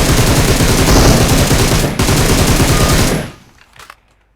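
Loud, close sustained automatic gunfire in the shooter game PUBG Mobile, dense rapid bursts lasting about three seconds, then a brief pause and a few fainter shots before quiet.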